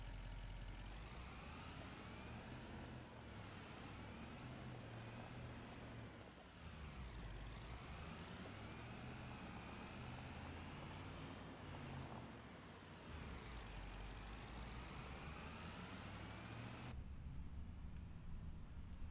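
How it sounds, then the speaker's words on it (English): Loud, steady truck engine droning in a tree-cutting driving video game, a continuous low rumble that shifts pitch as it revs, with an air-brake-like hiss near the end. "This truck is so loud."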